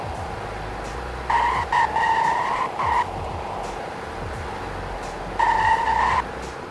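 Car braking hard in a 0 to 100 test in the Roblox Greenville game, with tire squeal bursts over steady engine and road noise, two squeals early and one later.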